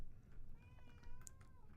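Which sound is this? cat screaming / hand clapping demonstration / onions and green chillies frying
cat screaming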